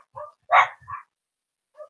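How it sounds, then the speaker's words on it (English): Several dogs bark in short, separate yaps and woofs, fairly close and isolated, with quiet gaps between the barks. "these dogs are going off for no reason"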